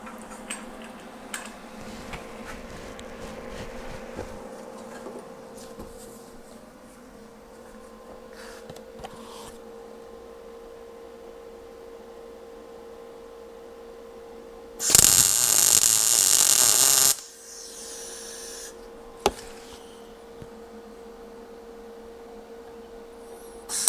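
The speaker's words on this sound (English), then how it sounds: "Let's put some weld on it." Welder laying a tack weld on metal during a golf cart build, a loud two-second crackling buzz midway through a quiet workshop hum with scattered clicks, no talking.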